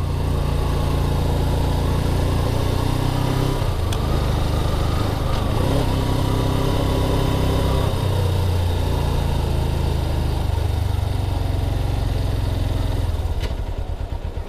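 A cold-blooded dual sport motorcycle engine, loud and close, is revved and held at a rough, uneven idle. The pitch swells and sags over about fifteen seconds, and no one speaks.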